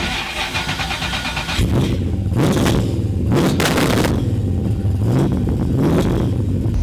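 525 bhp LS3 V8 in a Nissan PS13 drift car cranking and firing up, a churning start giving way to a loud rough idle with a few sharp revs.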